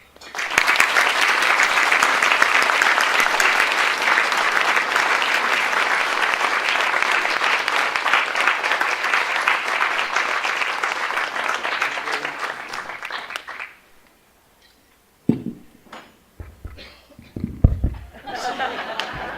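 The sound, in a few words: audience applause welcoming speaker Bob Ludwig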